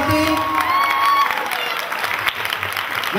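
Audience applause at a Tamil Catholic church Christmas festival in Bremen, Germany, a steady mass of clapping from a hall crowd, with a tone or whistle at the start and faint voices mixed in.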